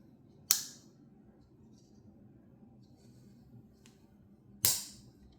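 The 93mm Victorinox Spydernox custom pocket knife with a Spyderco Wharncliffe blade snaps shut twice, giving two sharp, crisp clicks about four seconds apart against a quiet background.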